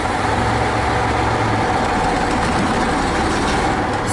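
A loaded MAZ truck hauling rapeseed rolls slowly off a grain-depot weighbridge, its heavy diesel engine droning low and steady at close range, with a constant rumble and no voices.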